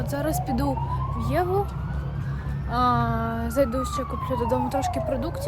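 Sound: emergency vehicle siren

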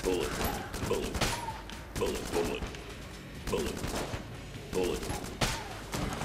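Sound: gun firing bullets in video game Enter the Gungeon

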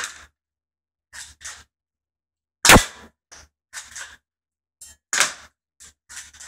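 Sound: UK Arms 1911 spring airsoft pistol shots

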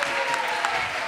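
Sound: audience applause

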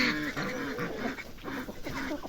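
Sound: domestic ducks quacking as they are let out onto grass

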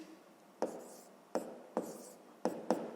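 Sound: writing numbers by hand

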